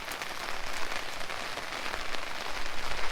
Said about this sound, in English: It's raining, Lulu.